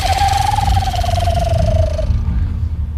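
A man imitates an owl hoot by blowing through his cupped hands: one long, steady hollow note that slowly sinks in pitch over about two seconds, heard close and loud over a low rumble.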